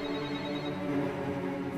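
Cartoon telephone ringing, a brief continuous electronic ring heard up close and alone, lasting under two seconds.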